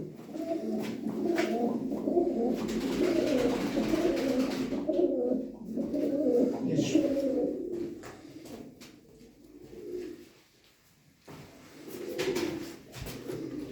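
Pigeons coo steadily at a Turkish pigeon auction, a continuous low burbling chorus that dips and briefly fades near the end before resuming.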